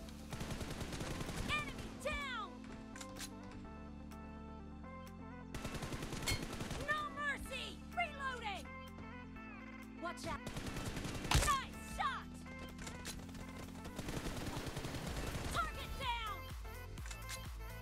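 Bursts of gunfire from a BGMI 8v8 arena match on a mobile game, repeated rapid shots over game music and sounds, coming in clusters with quieter gaps.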